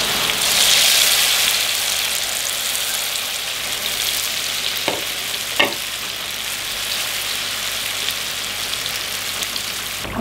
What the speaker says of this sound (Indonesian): Oke, kita goreng, minyaknya sudah panas.